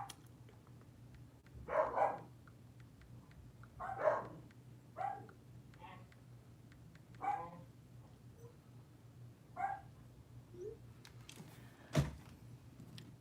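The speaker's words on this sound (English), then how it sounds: "are they going to bark this whole time?" Dogs bark in the background of a live online tarot reading at home, giving single or paired barks every two seconds or so, moderately distant over a steady low hum.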